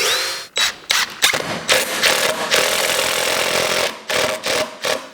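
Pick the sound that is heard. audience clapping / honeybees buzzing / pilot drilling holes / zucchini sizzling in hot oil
pilot drilling holes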